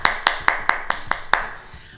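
A group of people claps hands together at the end of a martial-arts movement exercise, seven sharp, evenly spaced claps in a brisk rhythm, with the last clap slightly delayed before quiet.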